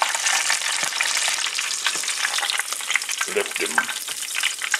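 An inside-out BLT deep-fries in leftover grease, a dense, steady crackling sizzle close up that runs the whole time, with a short spoken comment near the end.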